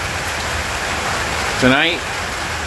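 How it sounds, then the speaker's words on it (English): Heavy rain falls steadily at a campsite on a Saturday night, a dense, continuous hiss throughout, while someone briefly speaks over it. "you can hear the rain coming down."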